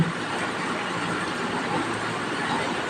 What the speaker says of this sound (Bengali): জলাশয়ের পাশ দিয়ে যাচ্ছে ট্রেন